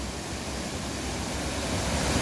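A waterfall at Aibga near Sochi pours into turquoise water, a steady dense roar of rushing water filling the air without pause, fairly close and even in level.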